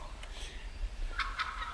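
Wild turkey toms gobbling from a hilltop field, a faint distant gobble rattling out twice near the end over low wind rumble.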